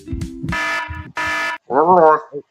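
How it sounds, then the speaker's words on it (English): A fire alarm sound effect from a gacha animation blares in long, loud, buzzing blasts, two sustained tones followed by a wavering wail. "that's a fire alarm"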